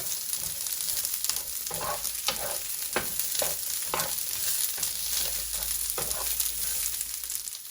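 Green beans charring in oil with salt and pepper in a hot pan, a steady close sizzle and crackle with repeated stirring scrapes and clinks throughout, no voices.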